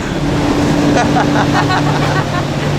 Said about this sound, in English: That's a really powerful motor.